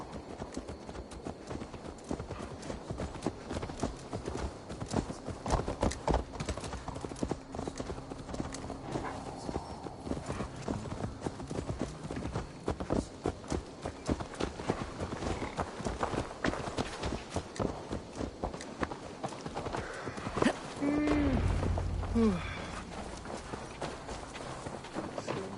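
Rhythmic horse hooves clip-clop steadily at a trot in Assassin's Creed Valhalla, fairly close, with a brief whinny-like burst and ambient game sounds near the end.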